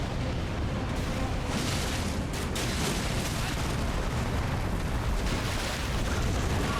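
A boss in Elden Ring breathes fire at the Ruin-Strewn Precipice, giving a continuous loud, roaring rush of flame that stays at a steady level for several seconds.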